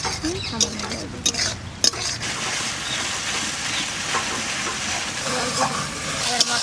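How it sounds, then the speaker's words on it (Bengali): Spice paste for Bengali katla fish kosha sizzles and hisses steadily in hot oil in a pan, with a few sharp scraping clicks of the spatula stirring near the start and end. "এবার এই মশলাটাকে ভালো করে কষাবো।"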